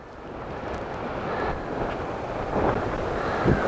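Gusts of wind during an Oregon coastal wind storm, a loud roaring rush that buffets the microphone and swells stronger toward the end, with no voices.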